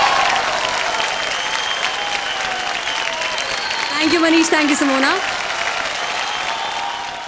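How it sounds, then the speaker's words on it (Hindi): A large awards-show audience claps steadily for the Taarak Mehta team, loud, dense applause that carries through the whole stretch while a host speaks over it. "जोरदार तालियां एक बार तारक मेहता की पूरी टीम के लिए।"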